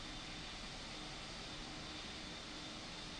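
An airliner takes off at Los Angeles International Airport in the RFS flight simulator, a steady broadband jet engine roar, faint and constant without change.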